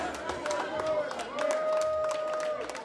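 Boxing fight crowd at an Auckland amateur finals event giving a short round of clapping, moderately distant and mixed with hubbub and some voices.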